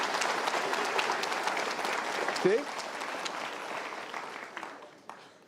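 Steady applause from a seated talk-show audience fills the whole stretch, with a brief spoken word cutting in midway and the clapping easing slightly toward the end.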